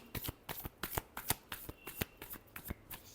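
Tarot cards being shuffled close up, a rapid, steady series of crisp riffling flaps and snaps throughout.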